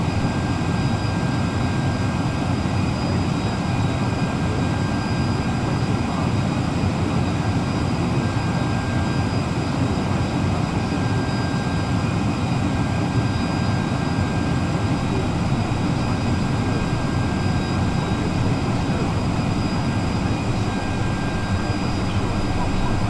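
Airbus A321neo jet engines humming steadily during pushback in a flight simulator, a continuous broadband drone with faint high tonal whine, constant and unchanging throughout.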